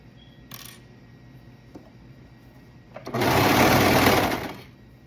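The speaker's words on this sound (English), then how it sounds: "And I'm using my serger, but you could just as easily use a stretch stitch on a regular machine." A serger overlocks a hoodie seam in one loud, buzzing run of about a second and a half, close up. It follows a few quiet clicks and handling sounds.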